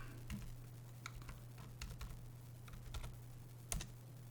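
Keys on a computer keyboard are tapped in quick, uneven bursts to enter a Linux command, close and quiet over a steady low electrical hum.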